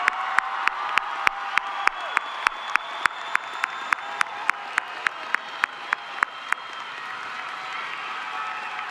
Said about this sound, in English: let us unite in giving them one final round of applause, symbolizing our unwavering love and support